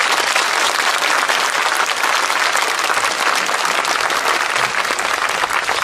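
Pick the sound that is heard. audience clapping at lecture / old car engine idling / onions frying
audience clapping at lecture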